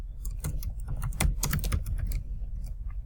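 Keys clatter on a computer keyboard in quick irregular bursts while someone types a short greeting into an online class forum post, the tapping close and fairly steady throughout with no voices.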